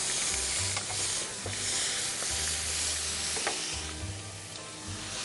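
Onion paste and split bay leaves sizzle in leftover hot oil, a continuous dense hiss with occasional faint clicks of stirring, no talking.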